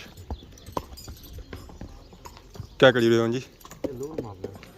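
Hooves clop and stamp irregularly on hard ground at a village fair, with a horse whinnying loudly midway and a person speaking briefly nearby.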